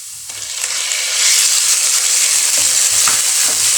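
Garlic and chicken frying in hot oil for chicken fried rice, a loud steady sizzle that swells as the chicken goes in, with occasional stirring scrapes and no talk.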